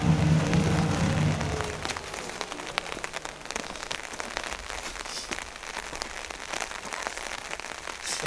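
Heavy rain pouring onto a 4x4 trail, a dense steady hiss of drops striking surfaces close by, with scattered louder splats and a low rumble at the start.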